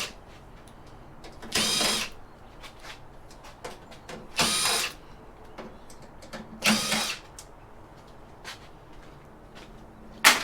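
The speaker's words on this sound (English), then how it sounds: "So I'll just undo a few screws here, and I might actually turn it over this side and get the first boards out." A power drill undoes screws on a chromatograph mass spectrometer being scrapped, three short loud whirring bursts spaced a few seconds apart, each under a second long, with quiet clicks and handling between.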